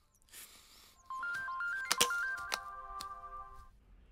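A phone ringtone plays a bright, stepped electronic melody that repeats for a few seconds. It comes in clearly over a quiet room with no talking.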